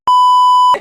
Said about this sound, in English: need you to turn off the timer on this.